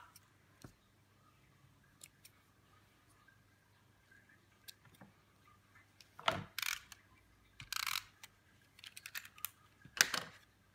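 Scissors snip away excess card paper for a handmade Stampin' Up Christmas card, a few quiet close crisp cuts and paper rustles spaced across a mostly hushed room, louder toward the end.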